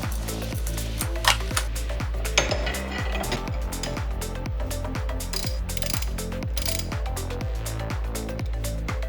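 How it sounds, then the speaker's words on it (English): A ratchet clicks rapidly and evenly, close up, while the pulley is unscrewed from a 12-volt, 100-amp car alternator, with a few sharper metallic knocks in between. "Now we can unscrew the pulley without the bearing rotating."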